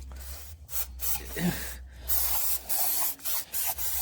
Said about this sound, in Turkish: O içeridekinin birazcık balata spreyi sıkalım.